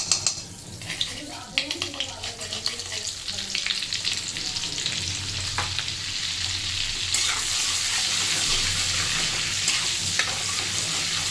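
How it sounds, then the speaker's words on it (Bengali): Butter sizzles as it melts into hot white oil in a pan, a crackling fry that builds and evens out into a continuous hiss. A few utensil clicks come early on. "এখানে সাদা তেল গরম করে নিচ্ছি, তার মধ্যে দিয়ে দিচ্ছি একটু বাটার।"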